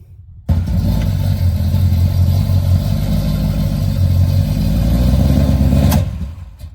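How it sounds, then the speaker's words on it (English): A car engine with a faulty, flooding carburetor roars loudly and close, starting abruptly and holding a rough, strained rev for several seconds before cutting off sharply. "I feel like the carburetor is dumping."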